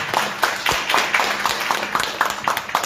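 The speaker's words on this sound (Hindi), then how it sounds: "ताली बजाइए।" An audience claps at a business seminar, a loose group of hands striking in a fairly regular rhythm with sharp, distinct claps close by.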